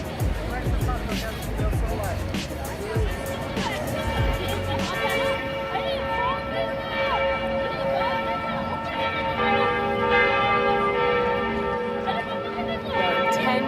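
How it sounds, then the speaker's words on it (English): Church bells ring steadily and loudly in overlapping peals, about ten different bells in Paris, with a busy hum of voices and street noise underneath throughout. "10 different bells? 10 different bells."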